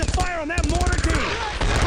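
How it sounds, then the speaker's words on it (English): An MG-42 machine gun fires in Brothers in Arms, a World War II battle against German paratroopers, as a rapid, steady stream of close, loud shots. Voices shout and talk over the firing. "Target that MG-42!"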